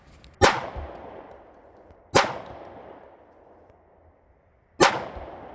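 A Glock pistol chambered in .40 S&W and fitted with a Strike Industries Mass Driver compensator fires three loud, sharp shots at uneven intervals, each crack ringing out and decaying, with no voices.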